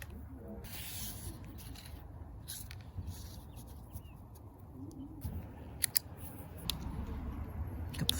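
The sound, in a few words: cutting gasket material for a Craftsman garden tiller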